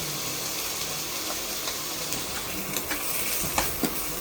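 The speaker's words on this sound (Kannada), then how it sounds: "ಒಂದು ಸ್ವಲ್ಪ ಎಣ್ಣೆ ಬಿಸಿಗೆ ಮಸಾಲೆ ಎಲ್ಲ ಹುರ್ಕೊಬೇಕು." Masala of coriander powder, red chilli powder and salt roasts in hot oil, a close continuous sizzle broken by scraping stirs and light clinks of utensil against pan.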